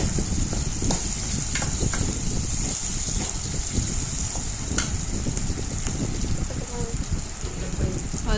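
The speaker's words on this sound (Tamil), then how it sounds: "இது எல்லாத்தையும் போட்டு 1 நிமிஷம் வதக்கலாம்." Mint and vegetables sauté in a pan for salna, crackling and sizzling steadily close by, with occasional stirring clinks.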